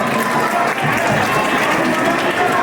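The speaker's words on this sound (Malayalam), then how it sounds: "എല്ലാവരും നല്ല രീതിയിൽ കൈയടിച്ച് പ്രോത്സാഹിപ്പിക്കണമെന്ന് താല്പര്യപ്പെടുകയാണ്" A crowd claps continuously at an elephant head-raising contest held at a Kerala temple in 2024. The applause is a dense, steady wash from start to end, and a voice speaks over it.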